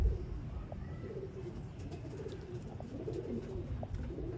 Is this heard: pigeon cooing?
yes